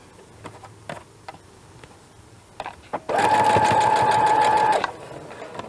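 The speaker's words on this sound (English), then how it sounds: "All right, now we're ready to sew these in." Sewing machine stitching a laser-cut COVID-19 fabric mask, a steady loud whir with a tonal hum running for about two seconds after a few faint handling clicks.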